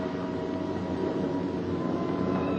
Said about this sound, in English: Every ear strains for the first sound of the engines.